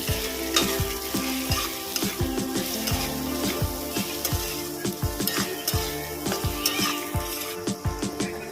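Turmeric, chilli powder and slit green chillies sauté in a pan as a masala for Bhola fish curry, with a steady loud sizzle broken by repeated scrapes and clinks of a spatula stirring.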